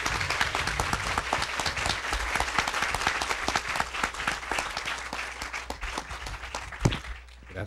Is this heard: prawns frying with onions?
no